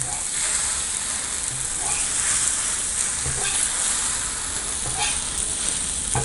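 Egg mixture for muttai kalakki frying in oil in a pan while being mixed, a loud, dense, continuous sizzle with faint stirring scrapes, close up and without speech.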